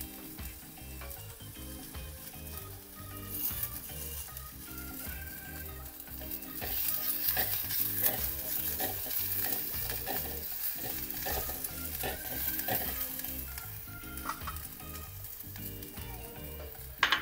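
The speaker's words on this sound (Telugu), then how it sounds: "సో ఇప్పుడు కరివేపాకు వేసుకుంటున్నాను" Curry leaves fry in a little oil with a dense, steady sizzle and crackle that grows louder partway through, up close with no voices.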